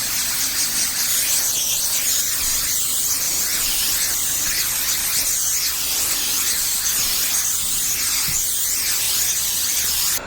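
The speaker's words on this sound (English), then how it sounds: "now I'm going to go shut that compressor off because it's been running this whole time." An air compressor runs steadily throughout while a coating is sprayed, giving a continuous loud broadband hiss with a low mechanical hum underneath and no talking.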